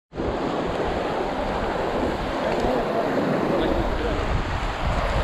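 Cold river water near Sonamarg rushes steadily in a continuous, loud broadband roar, with wind buffeting the microphone.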